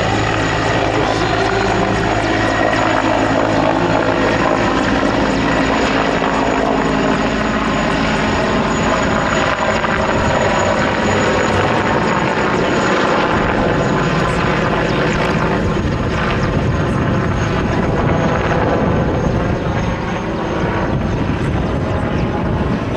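A Mi-24 Hind helicopter flies close by, its rotor and turbine roar loud and steady for the whole stretch, with no voices.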